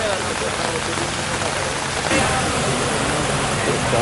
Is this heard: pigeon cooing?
no